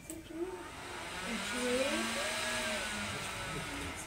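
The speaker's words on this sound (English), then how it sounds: "It is a supercharged hairdryer" A supercharged hair dryer runs with a steady, high-pitched whir and airy rush, droning continuously at close range with slight shifts in pitch.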